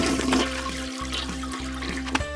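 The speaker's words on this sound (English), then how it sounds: "So George gave the toilet a big flush." A toilet flushes in a toy play scene, a steady gushing rush of water that runs continuously and fairly loud with a few small clicks near the end, no voices over it.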